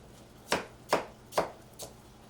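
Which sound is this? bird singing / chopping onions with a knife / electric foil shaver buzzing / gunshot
chopping onions with a knife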